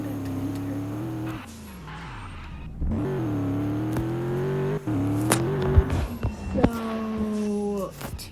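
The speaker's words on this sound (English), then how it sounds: "My car came with twin turbo." A twin-turbo car engine revs in a driving game, rising and falling in pitch with loud rev sweeps and a sharp whoosh, while a voice talks faintly underneath.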